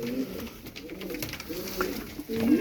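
Tumbler pigeons, Turkish Kobra Yılanı play birds, coo in soft repeated low rolling phrases, close and steady, with faint background noise and no talking.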